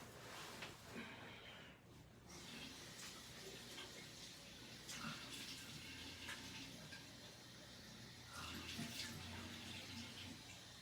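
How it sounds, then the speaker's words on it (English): Running water while hands are washed after a heavy bag workout, a continuous soft splashing stream at a moderate distance with a few brief louder splashes. "let me just wash my hands."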